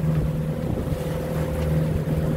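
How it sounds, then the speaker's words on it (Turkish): Strong headwind blowing across a sailing yacht in rough weather, a steady roaring wind rush with a low droning hum underneath and no voices. "Rüzgar kafadan geliyor."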